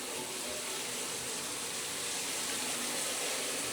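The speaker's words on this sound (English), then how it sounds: "there's more pressure to the shower and faucet right now with all three on" Water gushes at high pressure from a shower and faucet running together in a home after a water pressure upgrade, a dense, steady hiss that fills the space, close and loud, with no talking.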